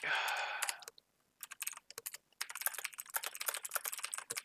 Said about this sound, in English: Sorry if the keyboard is a little bit loud.